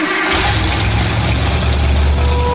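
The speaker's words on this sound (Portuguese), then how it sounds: "Aqui já é uma moto começando a velocidade." A motorcycle engine roars up as it accelerates, loud, close and continuous, with a broad, rough growl from start to finish.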